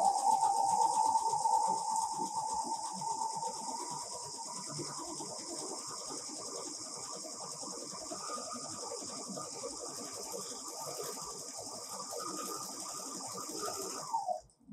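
An overlocker serger runs a 3-thread flatlock stitch in a fast, even whirring hum, then chains off a long tail and stops abruptly, close and fairly quiet with no talk.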